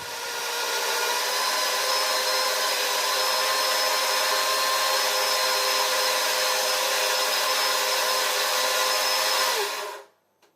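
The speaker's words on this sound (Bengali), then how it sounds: "তো আগে মিক্সিতে আমি চালটা বেটে নিই।" A kitchen mixer grinder grinds rice with a loud, steady, high-pitched whirring roar that holds for about ten seconds and then cuts off abruptly. Close up, with no talking.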